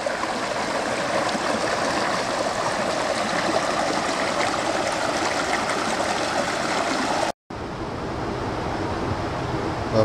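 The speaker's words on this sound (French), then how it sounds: "La plus grande cascade de Polynésie." On Nuku Hiva, the largest waterfall in French Polynesia, 350 meters high, sends out a constant dense rushing roar amid wind. It breaks off briefly, then returns slightly softer.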